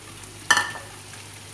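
A burst of hot oil sizzling as glutinous rice flour sesame balls drop in, fading into a quiet, steady bubbling fry over medium heat close by.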